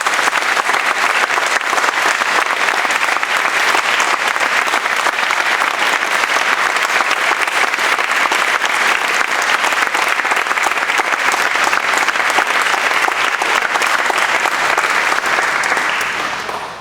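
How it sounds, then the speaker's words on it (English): An audience at a school event gives sustained, dense applause, loud and steady for about sixteen seconds before tapering off at the end. "let me finish by applauding you"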